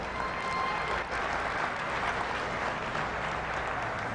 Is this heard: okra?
no